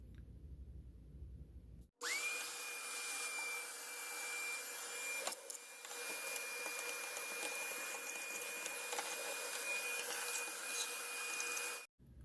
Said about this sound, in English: let's fire this thing up and clean up some ash